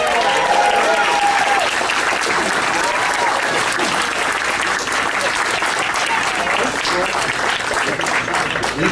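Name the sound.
audience applause for actor Scott Wilson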